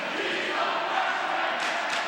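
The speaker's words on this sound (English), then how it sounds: "You can even hear the crowd get riled up." Red Knights fans in an indoor high school boys hockey crowd, Benilde-St. Margaret's against Burnsville, roar and chant as a steady, distant wash of noise.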